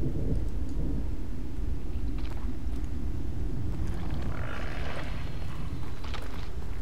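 A long rolling rumble of thunder in The Evil Within, heavy and continuous with a low roar swelling toward the middle.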